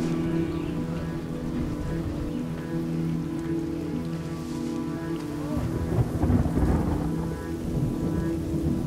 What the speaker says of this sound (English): The rain is very aggravating because you worked all day